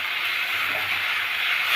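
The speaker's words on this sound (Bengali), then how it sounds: "তো এটাও এখন আমরা একটুক্ষণ ভেজে নেব।" Chopped tomato, ginger, garlic and chilli fry in a pan for a rajma curry, giving a steady, even sizzling hiss throughout.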